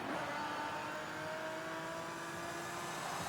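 Lotus Emira 2023 sports car in Forza Horizon 5, its engine holding a steady high whine with a droning tonal note throughout, loud and continuous with no talking.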